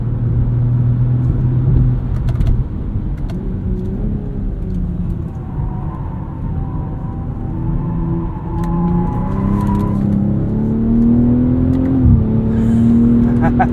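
A 2023 BMW M340i xDrive with a 3-liter inline-six drives under steady load, giving a continuous engine drone that rises in pitch through the gears, heard from inside the car.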